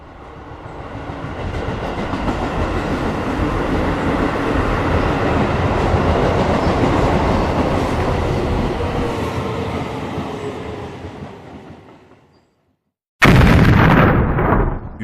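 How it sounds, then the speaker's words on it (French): A subway train roars through a tunnel, building and then fading into silence, followed abruptly by a loud explosion blast. "démarre une rame, saute au dernier moment, et le train fonce droit sur le monstre"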